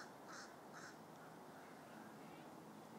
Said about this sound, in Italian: Io non capisco il corvo cosa pensi